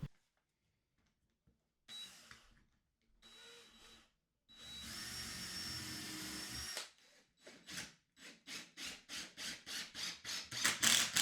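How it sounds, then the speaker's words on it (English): A power drill drives screws into 2x4 table legs, giving several loud close whirring bursts with pauses between, then a run of short rhythmic pulses as a screw is driven home; no one speaks. "From the small 1-inch area on top of the sides, screw into the legs."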